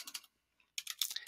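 Quick bursts of keystrokes on a computer keyboard, a short flurry of clicks, a brief pause, then a denser run of typing, close and crisp.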